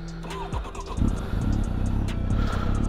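A Kawasaki motorcycle engine cranks and catches after about a second, then settles into a loud, close, steady idle with a low throbbing pulse.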